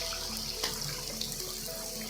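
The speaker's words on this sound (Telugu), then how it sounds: "ఓహో మొత్తం వాటర్ పడుతున్నాయిగా" Water falling steadily inside a cave at the Palanka waterfall in the Nallamala forest, a constant splashing hiss with faint drips, close and uninterrupted.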